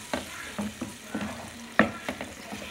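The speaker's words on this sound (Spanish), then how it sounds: "Vamos a agregar nuestra margarina hasta que se disuelva." Margarine melts with a soft sizzle in a frying pan with flour while a utensil stirs and scrapes in irregular close taps.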